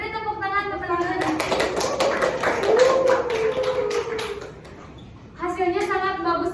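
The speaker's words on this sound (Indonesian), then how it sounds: "Beri tepuk tangan ke teman-teman" A classroom of students clapping for their classmates, a burst of quick hand claps in the middle with a voice over them, and sung or spoken voices before and after.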